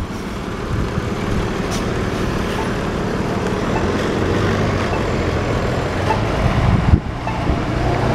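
Truck passing on a city street near Petco Park amid steady traffic roar, a continuous low engine rumble with a brief sharp knock near the end.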